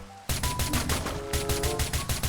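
Rapid automatic gunfire in the video game GTA V rattles in a fast, evenly spaced string of loud shots that starts abruptly and continues without a break.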